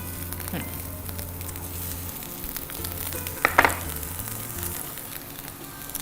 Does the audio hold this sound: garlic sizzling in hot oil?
yes